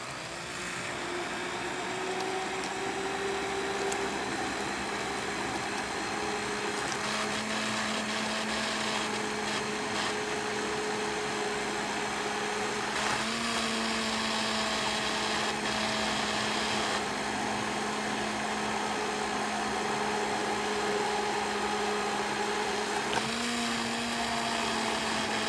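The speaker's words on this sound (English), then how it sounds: "I'm going to put the immersion blender in right below the surface and" An immersion blender whirs just below the surface of mulberry syrup, a steady motor whine that holds for a long stretch, its pitch shifting slightly a few times. Heard up close with no talking.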